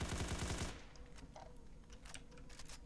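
Video-game gunfire from hip firing, a fast, rattling burst of close, loud shots that cuts off abruptly, followed by quieter faint clicks and ambient noise.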